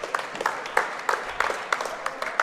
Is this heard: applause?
yes